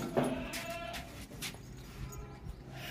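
A goat bleats at a livestock market where animals are weighed for Qurbani, with several short bleats and animal calls spread through the moment over a busy, noisy background.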